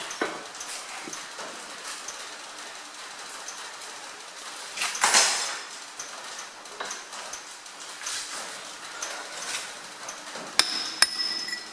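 A hammer strikes a cold chisel in a quiet workshop, giving a few sharp metallic knocks with brief pauses between them, the clearest about halfway through and a quick pair near the end.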